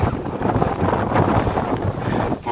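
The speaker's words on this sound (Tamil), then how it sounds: "காத்து வேற பயங்கரமா அடிக்குதா" Strong wind batters the microphone at Manimutharu Dam, a loud continuous rumbling buffet that barely lets up.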